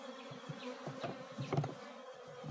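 Honey bees buzz around an open hive, a soft close hum with wingbeat drones rising and falling as individual bees pass near, fairly quiet and without talk.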